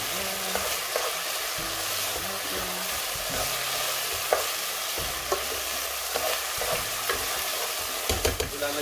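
Chicken with garlic and ginger frying in its rendered fat and oil for Filipino arroz caldo, a steady close sizzle with irregular knocks and scrapes of a spoon stirring the pot.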